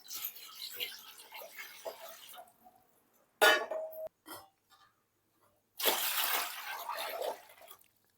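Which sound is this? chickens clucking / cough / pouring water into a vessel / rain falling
pouring water into a vessel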